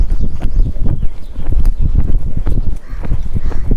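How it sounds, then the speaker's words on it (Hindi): Horse cantering during a riding lesson, with rapid repeated hoof clip-clops loud and close, a continuous uneven drumming rhythm over ground noise. "अभी घोड़ा ट्रॉट में चल रहा है और मैं यहाँ से इसको कैंटर का आदेश दूंगा और घोड़ा तुरंत कैंटर हो जाएगा।"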